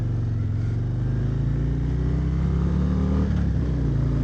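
A 2022 Harley-Davidson Road Glide ST bagger motorcycle engine rumbles steadily up close with a low, throaty drone, pitch rising and falling slightly as it rides along, with no voices.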